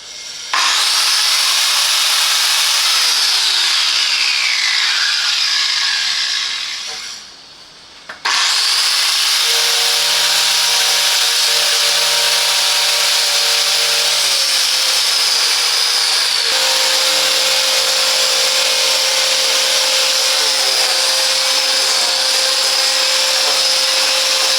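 A Parkside PLF 720 A1 paint stripper runs loudly and steadily, with a brief dip near the start before its continuous whine and hum return and hold to the end, with no talk.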